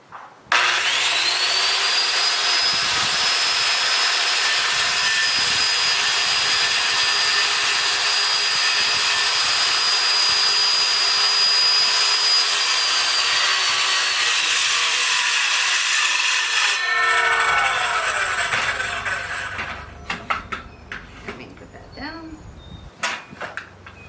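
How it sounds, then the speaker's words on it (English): A handsaw cuts through wooden boards during a bathroom barn door build. The rasping strokes are loud and continuous for most of the clip, then taper off into lighter scraping and handling sounds. "So I'm done cutting those boards in half"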